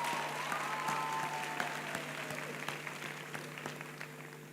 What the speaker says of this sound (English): Another round of applause, ladies and gentlemen, for our graduates.